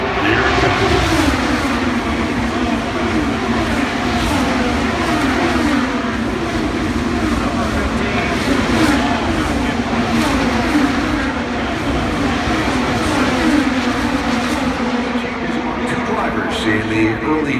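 IndyCar race cars roar past at the start of the Indianapolis 500, a loud, continuous engine drone that fills the whole stretch beneath a crowd and a commentator talking.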